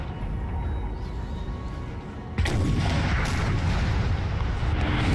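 12-pounder cannons fire in a Napoleon: Total War battle, a dense rumbling barrage that swells into a louder, sustained roll of distant booms.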